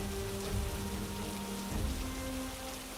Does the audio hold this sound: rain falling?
yes